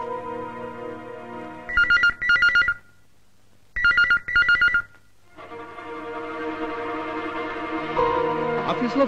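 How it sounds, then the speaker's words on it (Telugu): An office telephone rings unanswered, two paired bursts of electronic ringing separated by a silent pause, loud and close over a sustained musical score that swells afterward. "ఆఫీస్ లో ఫోన్ రింగ్ అవుతుంది, ఎవరు ఎత్తడం లేదు."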